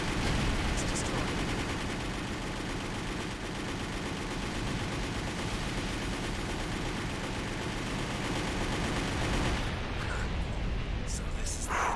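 A NEXT mech's machine gun in Armored Core For Answer fires one continuous, dense roar of rapid shots for about ten seconds. It is loud and close, with explosive rumble mixed in, and then it cuts off abruptly.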